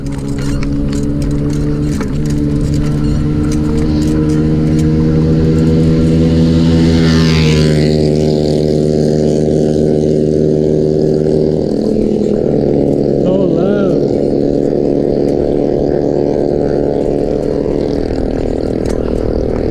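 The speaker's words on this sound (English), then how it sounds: "I tend to forget how loud some mini bikes could be, but oh man, so loud" Loud mini bikes roar past on a street near a ferry terminal, a strong buzzing engine drone rising and falling in pitch over about twenty seconds, heard close up.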